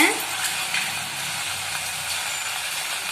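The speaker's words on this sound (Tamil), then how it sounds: "இப்போ நம்ம முறுக்கை எண்ணெயில் சேர்த்துக்கலாங்க" Murukku dough made with leftover cooked rice frying in hot oil, a steady broadband hiss and crackle that holds evenly throughout, with faint background noise and no clear talk.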